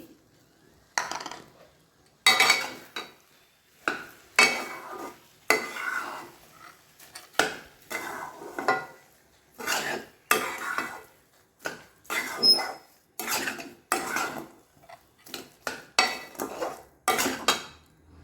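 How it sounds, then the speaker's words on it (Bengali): Sugar being stirred into coconut in a pan over a medium flame, a steady series of repeated spoon scrapes and clinks against the metal, close and rhythmic. "এবার আমি চিনি মিশিয়ে দিচ্ছি"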